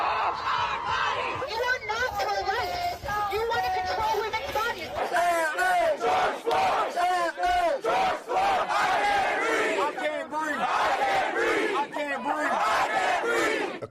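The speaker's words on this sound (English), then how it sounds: "burning their hijabs while large crowds cheer them on" Large crowd at a street protest in Iran cheering and chanting together, loud and sustained with rising shouts and overlapping voices, close and continuous throughout.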